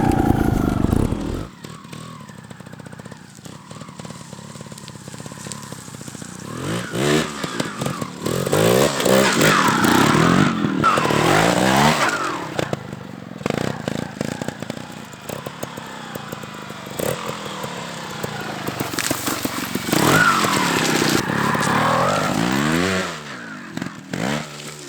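A Gas Gas TXT 280 trials motorcycle revs and rises and falls in pitch while ridden at a practice spot with small jumps, its engine loud and close with repeated throttle bursts and no talk.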